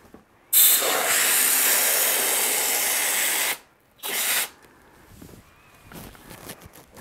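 A Froth Pak 200 spray foam gun purges its lines with a loud hissing spray lasting about three seconds, then a second short burst, followed by faint handling noises.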